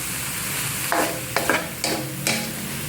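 Minced pork with vegetables and glass noodles is stir-fried in a pan. Four or five quick spatula scrapes break through a steady, close sizzle.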